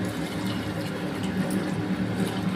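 Water pours steadily into a pot of rice for chicken biryani, a continuous close gushing fill without any talk.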